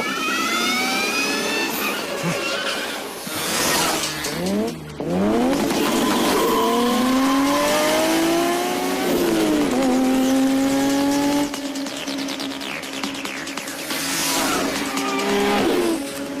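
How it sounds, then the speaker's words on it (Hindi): A car swerves through a sharp turn in a Hindi-dubbed action movie chase, tires squealing loudly in long rising and falling screeches over a steady engine roar, with repeated skids across the whole stretch and no speech. "गाड़ी घुमाओ, गाड़ी घुमाओ।"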